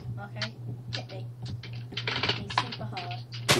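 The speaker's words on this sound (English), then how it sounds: "I'm typing it" Fingers tap rapidly on a computer keyboard in irregular bursts of clicks, close and fairly loud, with a low steady hum underneath and some talking mixed in.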